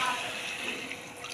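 Hot water is poured into a pot of fried chicken pulao rice, a short, soft splashing gush heard close by.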